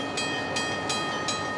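A train rolls past close by, its wheels giving a loud, rhythmic clickety-clack roughly every third of a second over a steady rumble.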